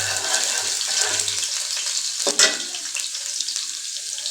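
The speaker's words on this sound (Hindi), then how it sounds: "अब इसमें लहसुन डालेंगे" Finely chopped garlic hits hot oil in a pan, a loud hissing sizzle filling the clip with a brief sharper burst partway through, no voices over it.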